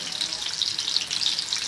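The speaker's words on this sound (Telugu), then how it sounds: "ఇవి కూడా వేపేసుకోవాలా? నూనెలో వేపేసుకోవాలి." Bitter gourd pieces fry in heated oil for a pickle, a brief, fairly loud crackling sizzle with a dense hiss and no talking.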